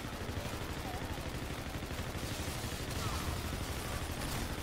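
Rapid gunfire from infinite-ammo weapons in Call of Duty Infinite Warfare Zombies in Spaceland, a continuous dense rattle of shots at moderate level, with no speech.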